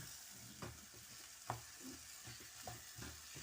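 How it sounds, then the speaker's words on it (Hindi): Spice masala frying in oil for a chicken and turnip curry, a soft continuous sizzle broken by several light spoon taps and scrapes as it is stirred. "चलो, जैसे ये पकता थोड़ा सा भूनता है"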